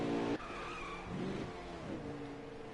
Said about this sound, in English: Oh, another wreck.